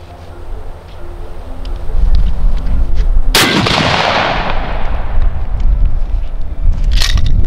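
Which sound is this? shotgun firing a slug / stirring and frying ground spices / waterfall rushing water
shotgun firing a slug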